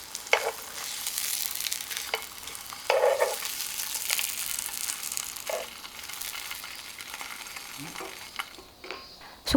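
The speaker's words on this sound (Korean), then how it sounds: "슬라이스 햄도 구워준다." Sliced ham grilling in a pan for a sweet-sauce toast sandwich, a bright steady sizzle broken by a few spatula scrapes and stirring taps, close and alone.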